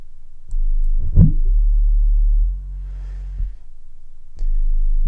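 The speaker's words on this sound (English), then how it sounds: "you can hear my room rattling with those bass notes" Deep synthesized bass tones through a resonant lowpass filter pulse on and off, with a swept resonant chirp and faint buzzing rattle from the room between notes.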